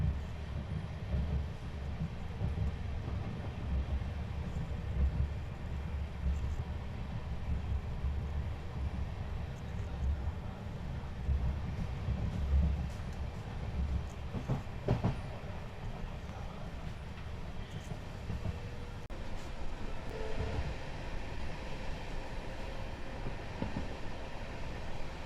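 The 16104 Rameswaram to Tambaram Express runs along the line near Mandapam by the sea, a steady, loud rumble and rattle of wheels and carriages that continues unbroken throughout.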